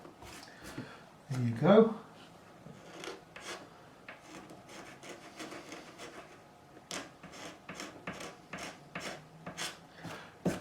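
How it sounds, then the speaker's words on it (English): A Stanley blade scrapes the fretboard of a Gretsch G5422 12-string guitar during a refret, making repeated short rasping strokes close up in irregular bursts. Someone speaks briefly near the start. "Scraping with a Stanley blade."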